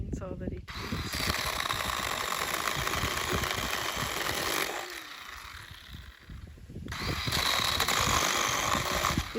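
A small chainsaw engine runs nearby in a state forest in Queensland, Australia, in a rough, buzzing drone, drops to a quieter idle for a couple of seconds, then revs up again.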